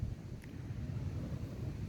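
Strong wind blowing across an open coriander farm field, a low rumbling buffet against the microphone, steady and fairly faint throughout with no voices.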